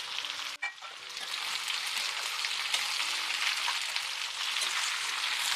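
Potato, cauliflower and radish pieces tipped into hot oil in a pan for vegetable biryani, a bump as they land and then a loud, steady sizzle that holds without pause.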